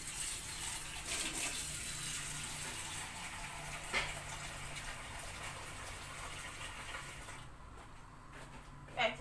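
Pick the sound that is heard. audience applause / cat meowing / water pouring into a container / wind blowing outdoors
water pouring into a container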